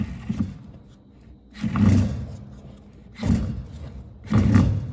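A 24-year-old Maytag washer-dryer combo drum wobbles on start: low, rough rumbling thumps come in three or four periodic surges, each swelling and fading, the heavy drum lurching unevenly as it turns.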